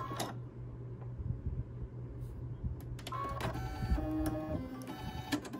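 An embroidery machine stitches onto a rope coaster with a fast, close mechanical chatter of needle strokes, broken by whirring moves and a few ticks as the frame shifts.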